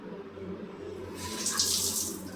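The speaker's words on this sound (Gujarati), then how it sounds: "આ ફુવારો છે કે આપણે નાહવા માટે જો" A bathroom shower turned on, water rushing out in a steady hiss that grows louder and fuller partway through, close by with no talking.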